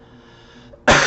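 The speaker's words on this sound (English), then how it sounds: "I open mouth coughed at her." A single sharp, open-mouthed cough bursts out near the end, loud and close after a quiet room hum.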